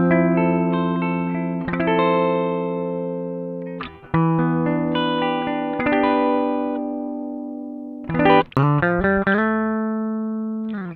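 A Gibson ES-335 electric guitar played through a Koch Pedaltone tube preamp with the compressor bypassed, giving clean sustained chords and notes in short phrases with natural decay, alone and close.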